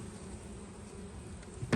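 Honeybees from a package colony drone in a low, steady buzz across the open top of the hive, close and continuous, with a brief louder bump near the end.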